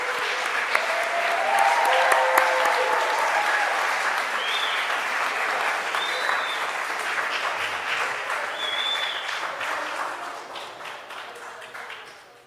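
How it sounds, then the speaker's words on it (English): Audience applause for Unity Award winners at the 2023 Not In Our Town Unity Awards fills a room, with steady sustained clapping from a crowd that slowly tapers off near the end. "just so we can give them a round of applause"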